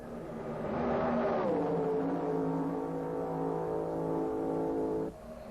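Formula 1 race cars from the 1957 French Grand Prix at Reims howl past, a loud rising-then-falling engine wail from a Vanwall in the lead, with a sharp drop in volume near the end.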